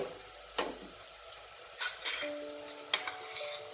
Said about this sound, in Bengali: 1 টেবিল স্পুনের মতো রসুন বাটা অ্যাড করলাম। এবার এই রসুনটাকে হালকা একটু 1 মিনিটের মতো একটু ফ্রাই করে নেব